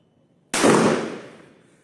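A 12 bore shotgun firing a Fiocchi 7.5 trap cartridge at a green coconut outdoors, heard as a single loud close blast with a sharp onset and a short reverberant tail, no talk.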